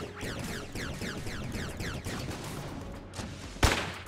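Turret gunfire in Enter the Gungeon: repeated rhythmic sweeping shots over busy game noise, ending in a sharp, loud blast.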